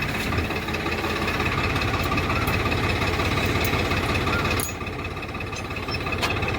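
A 969 CRTI tractor engine runs on a farm field. It idles steadily with a loud, rough, knocking drone, dropping slightly in level near the end before picking up again.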